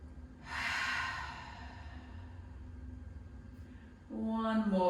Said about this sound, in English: Taking a deep breath in and then exhale, letting it all go out through the mouth